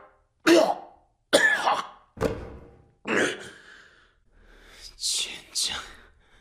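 Several harsh coughs and throaty bursts from a man coughing up blood and metal fragments come one after another with short gaps, close and loud, trailing into breathy, strained sounds at the end.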